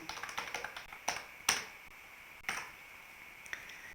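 Typing on a computer keyboard: a quick run of light, close key taps followed by a few louder, spaced clicks, with quiet gaps between.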